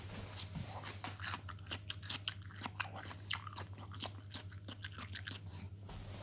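Repeated sharp crunches of biting and chewing a crisp fresh vegetable, close up, with a low steady hum underneath.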